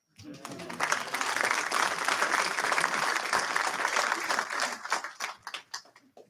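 Audience applause at a risk management diversity event, a sustained wash of clapping from a large crowd that swells, holds for several seconds and then thins into scattered claps.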